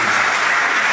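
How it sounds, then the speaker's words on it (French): Applause at a civil wedding ceremony: a brief, dense burst of clapping from the gathered guests, steady and fairly loud throughout the second with no speech over it. "On acclame."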